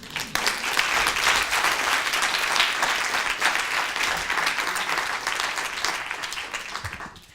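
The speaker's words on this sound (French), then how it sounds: "c'est grâce à eux qu'aujourd'hui vous pouvez applaudir" An audience at a FameLab 2014 science talk applauds, a dense sustained clapping that holds steady for several seconds before thinning out and fading at the end, with no speech over it.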